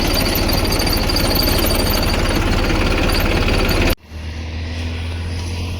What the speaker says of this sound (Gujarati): તો હવે જીરામાં દવા છાંટવા માંડી ગયા છીએ.